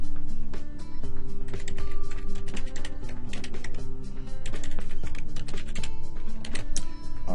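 Steady rapid keystrokes on a computer keyboard as a new password is typed, dense and close-up with irregular clicking rhythm throughout, no voices.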